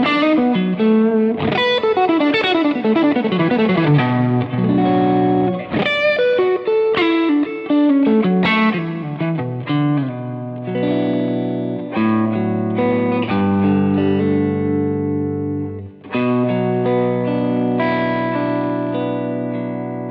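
A distorted electric guitar plays continuous riffs and sustained chords through a Two Rock Bloomfield Drive tube amp with four 6L6 tubes, 100 watts, loud and close with heavy effects, with a brief gap near the end.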